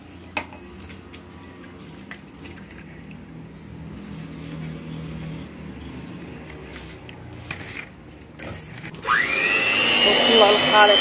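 Eggs and sugar being beaten for a cake batter: quiet clinks and movement under talk at first, then an electric mixer whirs up loudly near the end, close and rising in pitch.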